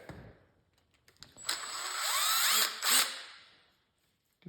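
A power drill backs screws out of a Craftsman snowblower, with a few faint clicks and then a loud rising whir that holds, dips, surges again and stops, followed by quiet and a final tap.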